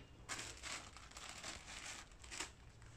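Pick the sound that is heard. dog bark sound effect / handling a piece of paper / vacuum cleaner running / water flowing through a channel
handling a piece of paper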